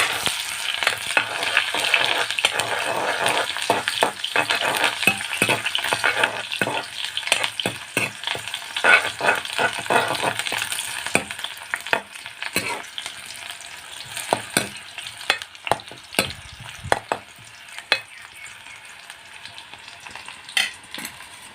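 Onions frying in hot oil in a kadai, a dense crackling sizzle with sharp stirring clicks and scrapes, louder at first and thinning into sparser pops toward the end, no speech.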